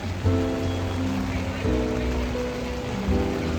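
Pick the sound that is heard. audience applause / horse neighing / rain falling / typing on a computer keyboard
rain falling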